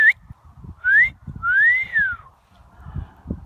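An African grey parrot gives a series of clear, close whistles, with three rising and arching whistled phrases separated by short pauses over faint background noise.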